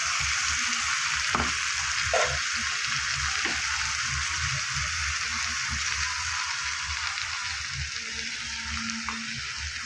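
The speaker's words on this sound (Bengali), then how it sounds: "ফুলকপি আর আলুটা আমার অনেকটাই ভাজা হয়ে গেছে।" Cauliflower and potato pieces fry in a pan for a vegetarian kohlrabi curry, giving a steady, close sizzle that runs without pause, with a few soft clinks and stirring scrapes on top.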